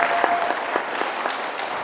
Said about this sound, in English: Would you do me a favor and just give them a round of applause?